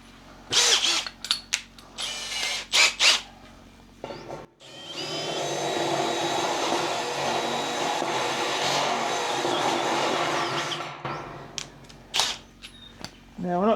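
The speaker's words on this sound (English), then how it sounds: "trying to drill the hole out with the step drill" A step drill whines steadily through metal for several seconds, loud and close, bracketed by bursts of clattering workshop noise before and after.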